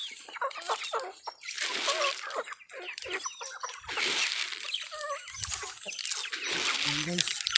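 Chickens feeding on grass on a farm, with scattered clucks and chirps from several birds, some close and some farther off, over rustling and pecking and a steady hiss, with a voice talking among them.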